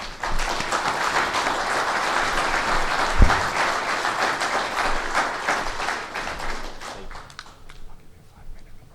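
An audience at a history talk about the Alamo claps steadily in warm, dense applause welcoming Dr. Paul Andrew Hutton, with a single thump partway through, before the clapping tapers off and a voice begins speaking.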